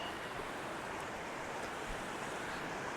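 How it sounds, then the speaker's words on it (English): A snowy mountain creek near Telluride, Colorado rushes past nearby, its steady, dense roar of flowing water carrying on without a break. "This creek is flowing with more water and more pressure than the Rio Grande was."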